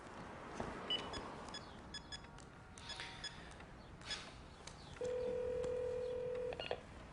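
A telephone number dialed on a touch-tone phone: a quick series of short beeping tones, then a long steady tone, heard fairly faintly over a hissy background with no speech.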